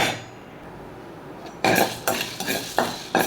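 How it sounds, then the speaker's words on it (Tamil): Chana dal and urad dal roasting dry in a pan, heard as a quiet start followed by several bursts of gritty, rattling stirring scrapes, close and moderately loud, with no talking. "இந்த கடலைப்பருப்பு உளுந்த பருப்பு ரெண்டையும் வறுத்து எடுத்துக்கணும்"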